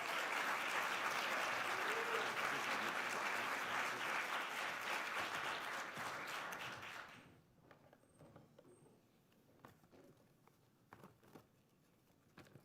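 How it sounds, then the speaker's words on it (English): A crowd at the 2026 Wells Fargo NC Principal of the Year award ceremony applauds loudly and steadily for about seven seconds, then the clapping fades out to scattered claps and quiet room noise. "Please join me in one more big round of applause"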